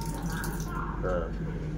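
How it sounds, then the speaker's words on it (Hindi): Water running steadily from a tap in the washroom of an AC train coach, a continuous close hiss and trickle over a low rumbling background hum. "एटा मोडिले पानी आसो"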